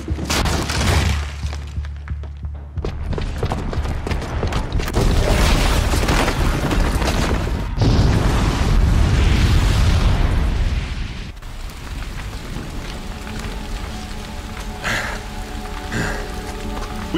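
Sustained heavy rumbling from a bomb explosion in the video game Horizon Zero Dawn, a long loud roar with crackling debris and deep booms that eventually settles into a lower rumble.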